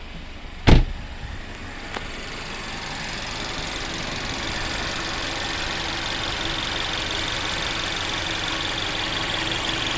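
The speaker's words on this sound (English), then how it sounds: "Now these engines are pretty noisy, and a lot of it comes from this high pressure fuel pump right here and the injectors." Mercedes CLA250 engine idling after a broken valve spring repair, with a noisy high-pressure fuel pump and injectors ticking over a steady close hum, opened by a brief sharp thump near the start.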